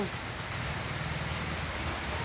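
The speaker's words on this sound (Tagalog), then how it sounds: "umuulan" Steady, even hiss of rain falling continuously, a dense rushing wash with no pauses.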